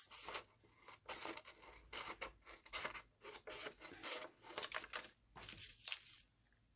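Scissors trim coffee-dyed paper in a quick series of close, quiet crisp snips and rasping cuts, rhythmic and uneven, with no talking.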